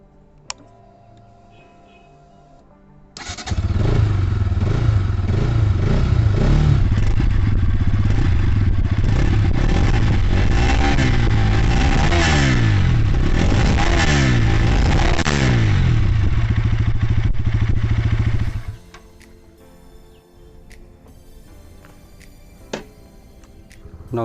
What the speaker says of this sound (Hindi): Now let's hear the exhaust.